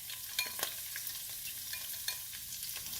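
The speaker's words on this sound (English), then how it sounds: "Giving a good saute" Celery and spring onion whites sauteing in a pan for peri-peri paneer fried rice, a soft continuous sizzle with faint scraping stirs and clinks, no talk.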